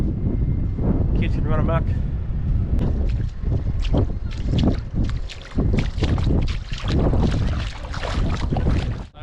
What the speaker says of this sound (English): If it wasn't so windy, I'd do a drone footage